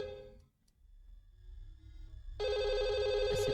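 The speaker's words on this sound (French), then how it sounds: "Ah, c'est pas ce téléphone qui sonne." A telephone bell rings loud and steady in a French mystery game, sounding continuously over a low ambient hum after a brief quieter stretch.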